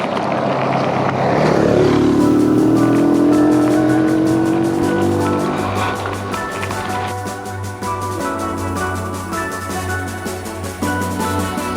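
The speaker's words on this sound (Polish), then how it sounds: "O, kładzik jedzie." A quad bike (ATV) on a gravel path revs and passes nearby, its engine note rising and then droning on steadily, loud and continuous, with no talk.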